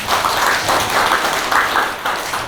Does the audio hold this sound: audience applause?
yes